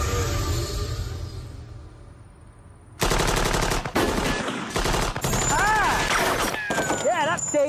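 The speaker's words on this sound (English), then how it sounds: "50 cal machine gun." .50 caliber machine gun fires in rapid, heavy bursts that go on for several seconds, loud and close, with people shouting and reacting over the gunfire.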